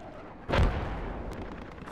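A single heavy gunshot booms out in the tactical military shooter Project Reality, followed by a rolling echo and low battlefield rumble.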